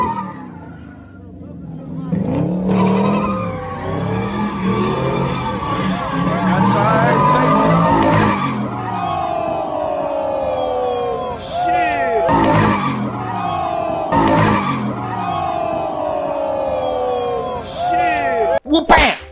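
A Ford Mustang's tires squeal as the car skids and whips around in circles in front of a crowd, long wavering screeches rising and falling with engine roar, then sharp slams and bangs near the end.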